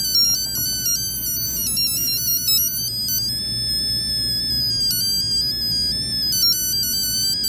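A bright, beeping electronic tone melody generated by an Arduino Uno, with stepped pitches, like a ringtone, playing continuously over a low background hum.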